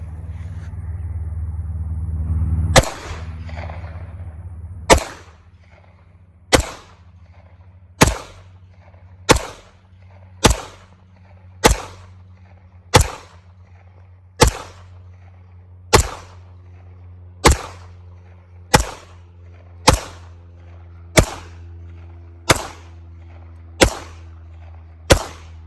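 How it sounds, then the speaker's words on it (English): Gunshots from a new AF1911 Romulus pistol by Alpha Foxtrot: about fifteen sharp, loud cracks fired at a steady pace roughly every second and a half, with a low background hum between them. "what do you think of shooting this brand new pistol?"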